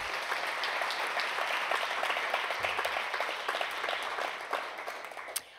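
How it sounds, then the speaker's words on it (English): Audience at an evening talk event claps warmly for its speakers, a sustained wash of many hands at moderate distance with scattered distinct claps, tapering slightly toward the end. "A round of applause for our talkers this evening."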